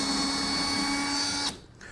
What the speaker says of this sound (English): I'm hoping taking these screws out